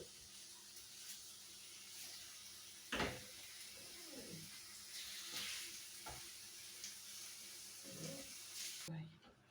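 Chicken frying in a pan gives a faint, steady sizzle, broken by occasional clinks and stirring knocks from the cook.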